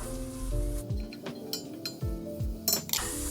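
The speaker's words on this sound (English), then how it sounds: "mix that in nicely" A spoon stirs onions and halved chillies in a cooking pot, giving quick metallic clinks and scrapes over a soft sizzle, with several sharp knocks in close succession.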